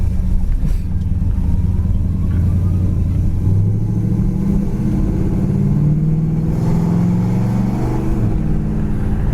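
A 1972 Buick Skylark with a Flowmaster dual exhaust idles and runs nearby, a steady low rumble with a couple of gentle rises in pitch, no voices over it.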